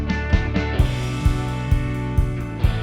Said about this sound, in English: Let's get a ride cymbal going here.